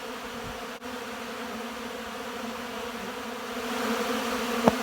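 A steady, low buzzing hum of many honey bees fills the air, moderately loud and continuous, with no voices.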